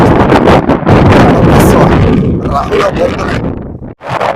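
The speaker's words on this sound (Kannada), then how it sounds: "ಗಾಳಿ ಬರ್ತಾ ಬೀಸ್ತೈತೆ" Strong gusts hit a hilltop temple area at Kailasa Siddeshwara hill, buffeting the microphone in loud, roaring bursts that ease slightly toward the end, with people talking under the wind.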